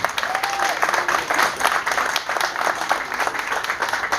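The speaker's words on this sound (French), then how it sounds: "que je vous prie d'applaudir encore une fois" Steady applause from a crowd at a Mvet Oyeng national day ceremony in Gabon, dense hand claps continuing throughout at an even level.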